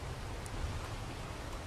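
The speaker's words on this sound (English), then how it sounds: "Oh, started raining." Rain falling in the survival game Ark: Survival Evolved, a soft, even hiss of steady rainfall, faint and continuous with no voices.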